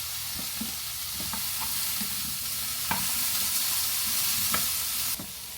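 Asparagus cooks in a pan for honey lime shrimp, a soft, even sizzle with scattered light taps and scrapes of stirring, fairly quiet and close, with no voices.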